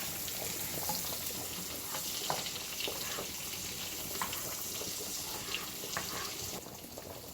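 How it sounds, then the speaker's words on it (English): Onions fry in bacon grease with a steady, moderately faint sizzle and scattered crackles, with no talking. "you are frying them inside of the bacon grease"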